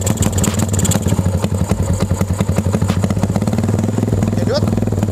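A bored-up Honda Verza motorcycle engine revs hard and rough up close, a fast, throaty pulsing with a loud rattle, steady for several seconds.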